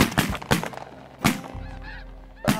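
Snow geese honk during an early-season hunt in a field, with several loud, nasal calls spaced irregularly and fainter honking from the flock between them, close and clear over a low background hum.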